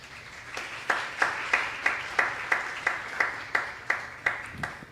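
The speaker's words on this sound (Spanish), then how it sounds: "Un aplauso para él también." A conference audience at a panel discussion in Colombia claps for a panelist, the rhythmic clapping fairly close and moderately loud, with regular distinct beats like a few people clapping in unison.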